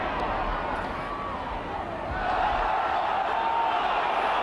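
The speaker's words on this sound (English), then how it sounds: "The crowd going absolutely berserk about that one" A big rugby league crowd at a Bradford versus Leeds club match roars and cheers in a dense, continuous wash of noise that swells louder partway through. There is no clear talk over it.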